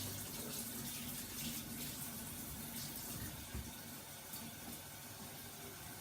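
Tap water runs steadily into a kitchen sink as something is washed during steak and pasta cooking, a faint continuous gushing hiss with no speech.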